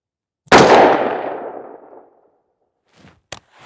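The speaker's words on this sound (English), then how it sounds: "And shot number 5." A single loud, close rifle shot fired with Atomic Ammo 77 grain tactical law enforcement match ammunition, a sharp crack with a long decaying echo, followed by a few faint handling clicks.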